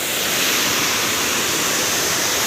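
A waterfall at the ORR viewpoint near Hyderabad gives off a steady, loud, full-bodied roar of rushing water that holds unbroken throughout, with no voices.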